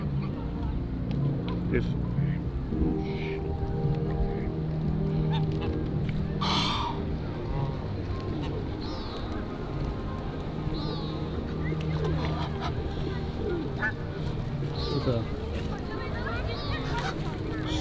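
Swans and other waterfowl honk repeatedly around a lake in Hyde Park, London, with calls near and far over steady background noise as people talk throughout.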